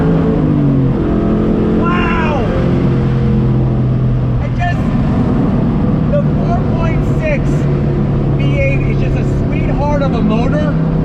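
A 2003 Ford Mustang Mach 1 V8 pulls hard in third gear, its loud engine drone rising steadily throughout while someone talks over it.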